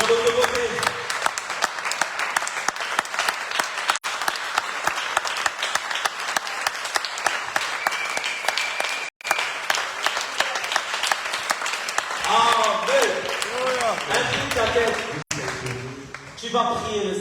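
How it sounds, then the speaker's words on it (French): Church congregation applauding and cheering during a French-language exhortation service, a dense sustained wave of clapping with voices calling out, running steadily for most of the stretch with brief gaps and speech-like shouts near the end. "Lève-moi avec des acclamations. Acclame bien, frère."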